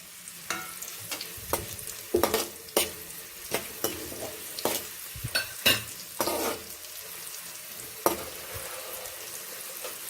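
Around twenty-five to thirty sun-dried buttermilk chillies fry in hot oil with a steady sizzle, while regular stirring clinks and scrapes in the pan sound close and loud.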